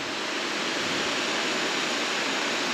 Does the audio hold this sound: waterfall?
yes